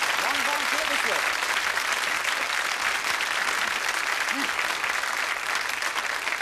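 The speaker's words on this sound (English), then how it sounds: "Big round of applause for a very good volunteer." A studio audience at a magic show applauds a volunteer with sustained, full clapping throughout, while a voice briefly talks over it near the start and again later.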